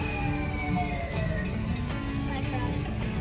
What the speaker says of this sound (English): The police sirens are because it's a parade.